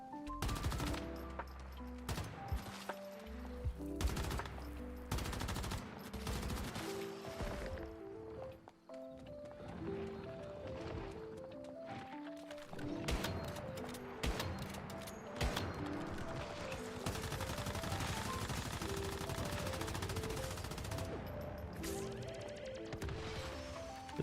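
Rapid video game gunfire with dense, sustained bursts of automatic shots layered over a tonal game score, loud and continuous throughout.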